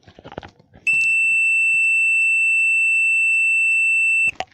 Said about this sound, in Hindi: ये देखिए बीप की आवाज़ आ रही है।